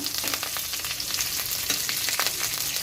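Curry leaves and chana dal sizzle in hot oil, giving a steady, fairly quiet hiss with scattered sharp crackles over a few seconds.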